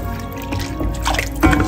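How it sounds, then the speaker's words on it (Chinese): Water poured into a wok of garlic fried with chili powder, cumin and oyster sauce, giving a close, steady liquid splash and bubbling that swells near the end. "然后加水"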